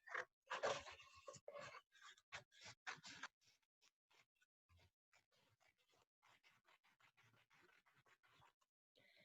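Scissors snip through a cardboard paper towel tube in a quick burst of close, crisp cuts, then trail off into softer, scattered snips and scrapes.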